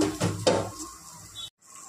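A metal wok set down on a gas stove with a couple of clanking knocks, close and fairly loud, followed by a quieter stretch of faint kitchen noise.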